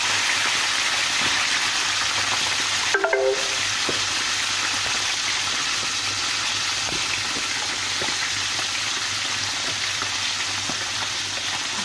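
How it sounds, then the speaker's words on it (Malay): Fish frying in hot oil in a wok, a steady close sizzle and crackle running throughout with a brief clatter of stirring or placing near the start, no talk. "Okey, jom kita goreng ikan."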